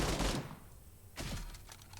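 Gunfire in the video game PUBG, two bursts of rapid shots about a second apart, loud and close with a quiet gap between, no talk.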